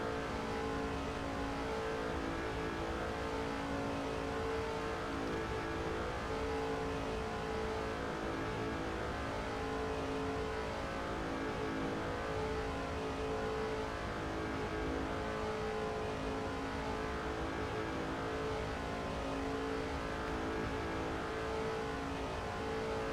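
Stock cars race in the video game NASCAR 06 at the 2005 Budweiser Shootout, with a constant loud engine roar that swells and fades slightly over a steady noise bed and no pauses.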